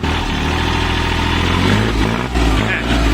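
A used Kubota walk-behind tractor engine idles steadily up close with a low, throbbing drone, while someone speaks over it.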